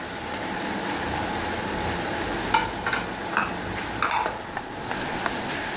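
Ground black pepper, garam masala, cumin, turmeric and coriander powder sizzling in hot oil in a pan as they are stirred, a steady close fry with a few sharp scrapes of the spoon partway through.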